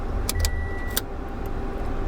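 A Toyota Tundra truck idles close by with a low steady rumble, a few sharp clicks and a faint electronic tone sounding as the engine is switched off, the idle carrying on underneath.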